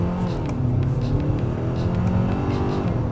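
Hyundai Palisade 2025 Calligraphy AWD SUV accelerating hard in Sport driving mode, a steady, loud engine roar with rising harmonics that runs continuously through the whole stretch, with no voices.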